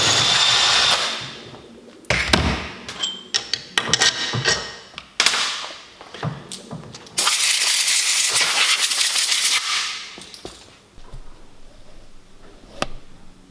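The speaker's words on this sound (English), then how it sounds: "You need to drill that out to fit your adjuster." A power drill bores out a bolt hole to fit an adjuster, loud whirring bursts broken by short pauses and clunks, close up with no talk.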